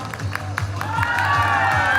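Audience at a Long Island Aquarium marine animal show applauds and cheers for Neela; steady crowd clapping with whoops, and a whistle-like animal or trainer tone rising over the noise, with voices mixed in.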